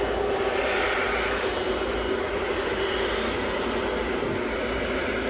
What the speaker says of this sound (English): Lufthansa's A321 just arrived.